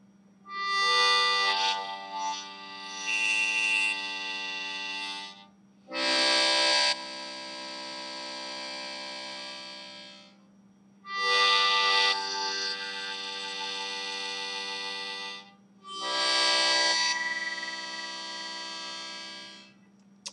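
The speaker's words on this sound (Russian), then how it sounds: "При неправильном дыхании гармошка звучит примерно вот так." A harmonica played with improper breathing gives a flat, pinched tone, sounding as four sustained chords separated by short silences over a steady low hum.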